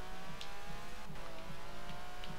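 A car engine in Forza Horizon 4 holds a steady, busy drone at high RPM, with faint periodic pulses and light tire noise running throughout at a constant, moderate loudness.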